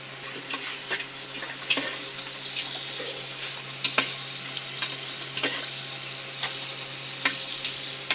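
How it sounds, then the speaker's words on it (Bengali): Food fries in oil with a soft, steady sizzle, punctuated by irregular sharp pops and spatters at close range, with no voices. "তো তেল দিয়ে ভালো করে ভেজে নিতে হবে।"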